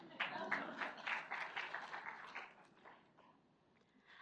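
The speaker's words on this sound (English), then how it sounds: "Please give him applause," Audience at a university hackathon pitch session applauding a presenter: a modest burst of clapping, soft and somewhat distant, fading out over the last second or so.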